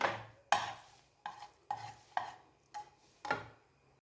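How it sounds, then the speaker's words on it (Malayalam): A spoon stirs onions sautéing in a pan for egg curry, about seven distinct scraping strokes in a steady rhythm, each with a brief sizzling tail, close and moderately quiet. "ഇളക്കി നന്നായിട്ട് വഴന്ന് വരട്ടെ നന്നായിട്ട് വഴന്ന് വന്നിട്ടുണ്ട്"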